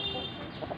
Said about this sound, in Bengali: দেখেন ঘাস টুকরায় টুকরাই খাচ্ছে, সব মুরগি খায়।